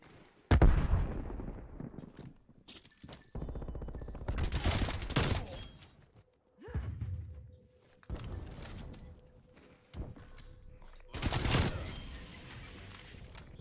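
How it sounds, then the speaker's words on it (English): Sentry gun fire in Call of Duty Cold War, loud repeated bursts of automatic gunfire with sharp blasts spread across the round, no talk over it. "That's a sentry gun."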